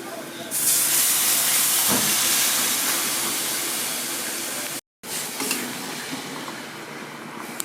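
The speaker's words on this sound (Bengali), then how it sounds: "এরপরে আমি দিয়ে দেবো গরম জল" Loud steady steaming hiss as hot water goes into sautéed potatoes in a pan for a potato-tomato curry, with a sharp hit near the start and a brief cut before the hiss resumes.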